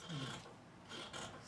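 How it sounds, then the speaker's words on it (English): Scissors cutting fabric around the armhole of a men's senator wear top, a soft rasping snip repeating in a few close strokes, with faint low hum beneath. "Then I cut out the armhole."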